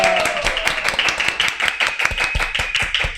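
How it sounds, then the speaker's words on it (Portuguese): A small group claps hands in a podcast studio, giving a steady burst of crisp, close applause that carries on for several seconds with no talking over it. "Ecoou as palmas reais aqui"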